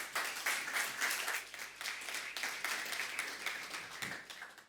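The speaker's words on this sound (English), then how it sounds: "Please give them a huge round of applause." Sustained applause from the audience at a formal panel session, a dense, steady clatter of many hands clapping at moderate volume for several seconds with no speech over it.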